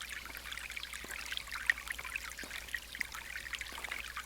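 Shallow forest stream about a foot deep trickling over pebbles and boulders, a quiet continuous babble with small bright splashes and drips, faint and close, no talk.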